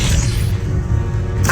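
The Confringo spell in Hogwarts Legacy bursts out as a loud, dense blast with a rushing swoosh, lasting about a second and a half before cutting off.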